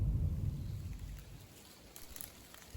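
Rain from a typhoon falls steadily on a Japanese island with a soft patter of drops, a low rumble fading early on, no voices present.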